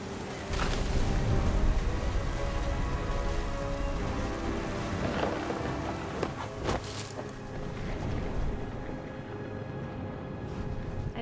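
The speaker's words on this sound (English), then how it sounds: "The thunder sounded much too close and full of angry power" Steady rain falls with low rumbling thunder in What Remains of Edith Finch, a dense wash of patter that rises and swells throughout, with a few brief louder cracks.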